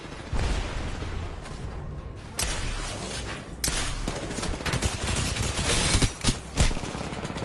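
Video game gunfire crackles in rapid, dense bursts with sharp cracks and thuds, loud and close with short gaps between volleys.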